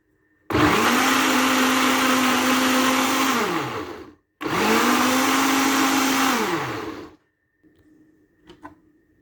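A kitchen blender mixes cereal powder, honey and a large glass of milk in two loud whirring bursts of about four and three seconds. The motor pitch sags as it spins down after each burst, and a few faint clinks follow.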